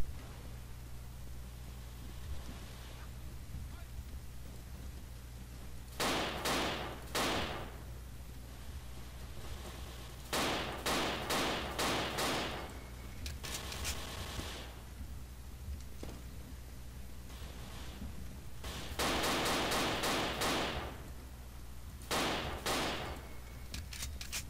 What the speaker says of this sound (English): Yeah, I really suck at shooting in this game.